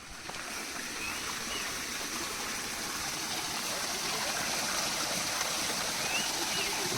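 A forest stream flowing somewhere below makes a steady, broadband rush of running water that holds an even level throughout, with no talking over it.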